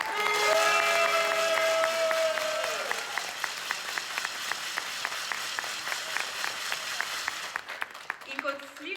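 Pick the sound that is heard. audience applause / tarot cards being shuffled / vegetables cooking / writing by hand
audience applause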